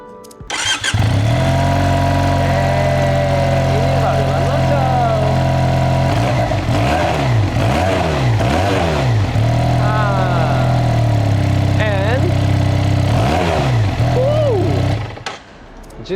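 A stock, unmodified QJ Motor SRK 250RR motorcycle engine with its original exhaust starts and idles nearby, then revs repeatedly in rising and falling bursts before shutting off, loud and close.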